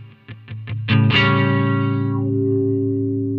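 An AKAI VariWah W1 wah effect pedal shapes a guitar: a few quick muted plucks, then one hard-struck note that sustains for over two seconds, its bright, quacky upper tone sweeping down as it decays.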